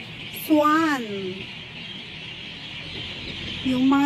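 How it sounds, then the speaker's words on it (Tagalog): Swans at a park lakeside give two loud, nasal, honking calls, one near the start and another near the end, with a quiet outdoor hush between them. "Ayun yung mga swan."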